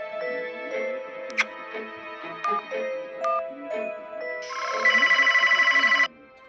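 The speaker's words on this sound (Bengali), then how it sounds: "ফোন তো বেজে যাচ্ছে, ফোনটা ধরছে না কেন?" A phone rings out repeatedly at night with no one answering, a steady electronic ringtone pulsing near the end after scattered ticks and tones, with no talk over it.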